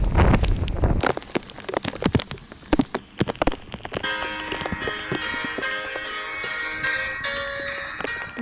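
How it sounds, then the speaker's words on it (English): Freezing rain pelting an owl nest outdoors, a dense, loud crackling patter of icy drops hitting close by, steady throughout with sharp individual impacts and some ringing tones in the later part. "The freezing rain kind that is pelting our mama owl."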